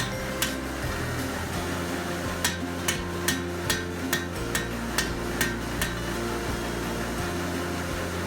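Hammer blows ring out on a hand and a half sword being forged, a sparse series of sharp metallic strikes spaced irregularly over a steady mechanical hum, likely a forge blower.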